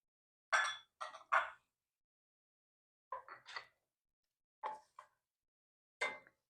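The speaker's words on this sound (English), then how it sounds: "And you're going to just stir that all up." A spoon stirs ingredients, including tomatoes, in a bowl, giving several sharp, close clinks in small clusters separated by quiet pauses.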